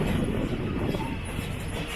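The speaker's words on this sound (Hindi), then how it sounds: "हमारी ट्रेन रंगापारा में अराइव करती हुई" The Murkongselek Express arrives at Rangapara North, heard from on board as a steady low rumble of rolling wheels and carriage noise, continuous and fairly loud.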